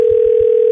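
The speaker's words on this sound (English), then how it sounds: "We are ringing Taylor" Telephone line ringing out during a radio cash-call contest, a loud steady single tone that holds without a break, with a few low thumps near the start.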